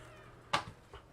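A single short cat meow sounds once, fairly close, inside a cleaned-out shed turned cat house, with quiet room tone around it and a fainter trailing sound afterward.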